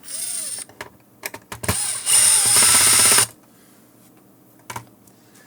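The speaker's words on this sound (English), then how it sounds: "we need to open these 4 screws" A power drill unscrewing screws from a 3M XT-1 drive-thru wireless intercom, with several short whirring bursts and one sustained loud run of about a second, separated by small clicks and handling taps.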